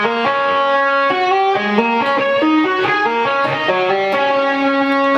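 Distorted electric guitar playing a fast tapped riff, sustained notes stepping quickly between pitches in a repeating pattern, clear and close.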